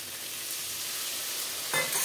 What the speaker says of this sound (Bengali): জল দিয়ে আগে মশলাটাকে কষাই করবো ভালো করে